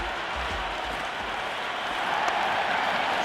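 Stadium crowd noise in a cricket video game, a steady wash of applause and cheering that swells slightly louder toward the end, close and continuous without talk.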